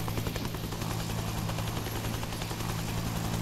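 A helicopter in the video game DayZ roars close and loud, a steady dense rotor-and-engine wash with a fast chopping pulse that runs continuously throughout.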